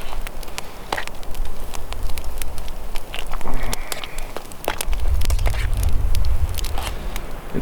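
Stew of onions, potatoes and carrots simmering in a pot over a campfire during an overnight winter storm, with crackling fire pops and gusting wind rumbling throughout, strongest near the end.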